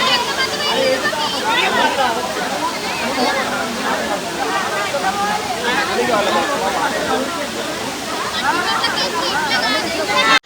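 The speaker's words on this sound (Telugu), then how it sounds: "పైనుంచి వాటర్ చల్లగా పడుతుంటే భలే అయితే ఉంది." A rushing waterfall pours cold water down from above in a loud, continuous roar, with a cheerful voice speaking and bursts of people's chatter mixed in.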